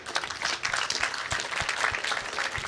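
Audience at a hip hop culture talk applauds for a guest, a fairly quiet patter of many hands with a few sharper individual claps standing out over the steady clatter.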